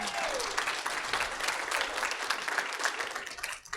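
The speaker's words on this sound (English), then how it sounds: "Can we give a round of applause for WEXPO?" Audience applause at an all-company meeting, a steady, moderately distant wash of many hands clapping that holds for a few seconds before tapering off.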